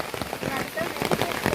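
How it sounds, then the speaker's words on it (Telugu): A brief burst of sudden, heavy rain in a tribal village: a close, continuous patter of drops, with a person talking over it. "అమ్మ ఏంటమ్మా వర్షం సడన్గా"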